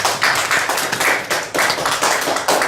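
A church congregation claps together in loud, steady rhythmic bursts during a worship service, filling the room with close, dense hand claps and no talking.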